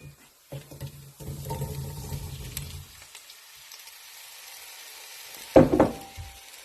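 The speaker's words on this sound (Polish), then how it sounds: "Teraz wrzucamy ziemniaki." Potato slices dropped into a pan of sautéed onion begin to sizzle, with a soft background of frying and clatter followed by a sharp burst of hissing near the end, all fairly quiet and without talking.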